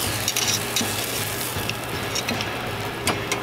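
A sirloin steak sears on a Beefer grill, giving a steady broadband hiss with a few brief crackles and pops, close and moderately loud throughout, with no talking.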